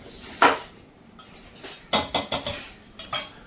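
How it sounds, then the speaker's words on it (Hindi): A metal spoon clinks and scrapes against dishes while chicken in a yogurt gravy is served at a home meal, a handful of sharp close chinks in an uneven cluster with quiet pauses between. "ये ले ले, चम्मच से जरा चिकन निकाल ले।"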